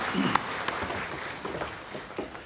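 A church congregation applauds during a Sunday worship service, a short burst of scattered hand claps at moderate distance that fades within a couple of seconds.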